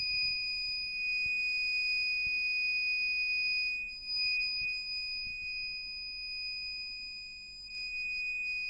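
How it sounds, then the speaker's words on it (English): The buzzer of an IoT rainwater sensor system gives a steady, continuous electronic tone that holds unbroken for the whole clip over faint low background noise. "then the buzzer will be activated."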